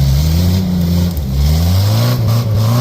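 A 4-cylinder engine in a 1989 Jeep Comanche pickup revs steadily with a low, throaty tone that rises and falls slightly over a few seconds. The engine sits close and loud, with no talking over it.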